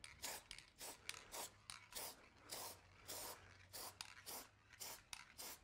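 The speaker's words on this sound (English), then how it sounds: "Spray a nice little bead on the edge." Short hissing bursts of gasket sealant being sprayed in a bead along a valve cover edge repeat in a steady rhythm, about a dozen quick puffs close by, with a faint low hum underneath.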